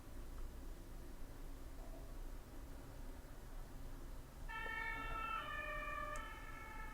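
A police siren wails faintly in the second half, a far-off tone rising over steady background hiss at a Warcraft 3 esports match.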